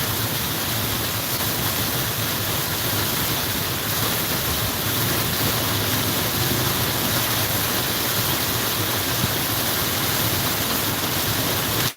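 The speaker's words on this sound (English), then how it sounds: "This rain just doesn't want to let up." Heavy, steady rain falls without pause on a farm evening, a dense, even roar close by that holds at one loudness throughout, with no voices.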